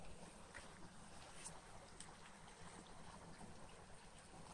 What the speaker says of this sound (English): Got a little waterfall over here